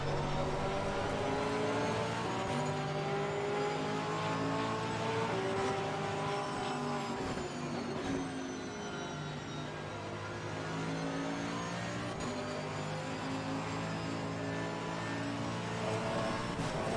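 Mercedes AMG GT3 race car engines in a racing video game AI race roar and rev continuously, shifting pitch as the cars accelerate and pass, sustained with no talking.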